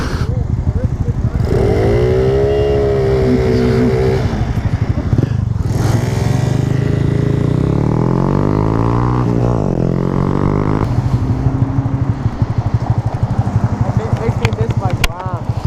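A Honda Ruckus scooter engine drones steadily while being ridden, its pitch rising and falling with throttle changes, with wind rush and riders chatting loudly over it throughout.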